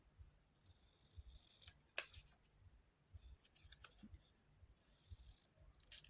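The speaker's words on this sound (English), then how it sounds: "I think I might just cut that one a little bit smaller." Scissors snip a paint chip paper gift tag close by, with quiet, irregular short clicks and cuts over a faint background hum.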